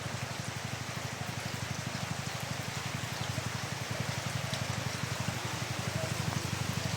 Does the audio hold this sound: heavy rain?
yes